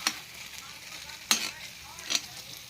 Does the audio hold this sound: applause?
no